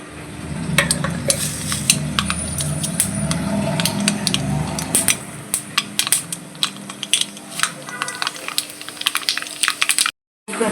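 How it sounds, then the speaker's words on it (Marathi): Tempering (phodni) of spices and green chilli crackling in hot oil in a home kitchen for sabudana momos. A busy sizzle runs under sharp clinks and scrapes of a spoon stirring against the pan, then briefly cuts out near the end. "आता आपण यांना फोडणी देऊ"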